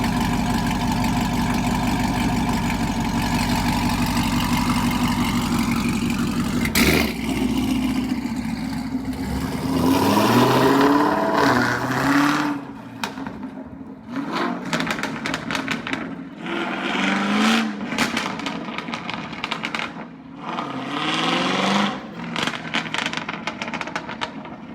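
A 2017 Camaro SS fitted with Kooks headers idles with a deep, loud, steady rumble, then breaks into a series of sharp revs that rise and fall repeatedly, close by and alone.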